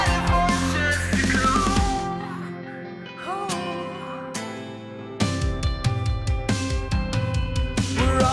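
Two guitars layered in a band mix, one acoustic-styled and one electric, play strummed chords and picked notes, a brief pause breaking the flow before rhythmic strumming resumes fuller and louder.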